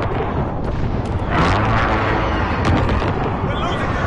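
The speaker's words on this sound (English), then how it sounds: "Precision airstrike inbound." Airstrike explosions in a video game battle, a dense, loud, continuous roar of blasts and rumbling with sharper cracks layered on top, close and overwhelming throughout.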